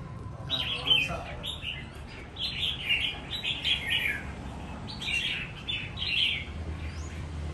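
Red-whiskered bulbuls in cages on a competition rack give repeated bright chirps and short warbled phrases, fairly close, over a low background rumble.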